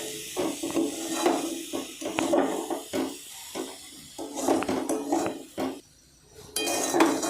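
Melting sugar being stirred in a pan for coconut sweets, repeated scraping and clinking of a spoon against the pan with a soft hiss beneath, pausing briefly before resuming.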